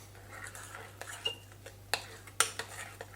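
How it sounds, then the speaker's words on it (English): A spoon stirs and scrapes smoked mackerel pâté in a bowl, giving several soft clinks and scrapes with a couple of sharper metallic taps near the end. "Then we just give it a mix."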